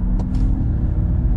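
Car accelerating hard towards 100 km/h on a road, a V8 Ford Mustang or Mustang Mach-E pulling alongside another car, heard as a loud, steady low engine and road rumble without a break.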